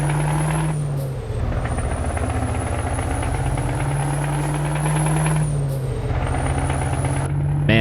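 Heavy truck engine in Euro Truck Simulator 2 with a custom sound mod, a steady loud low drone with air brake hisses and pressure releases near the start and around the six-second mark, with no talk.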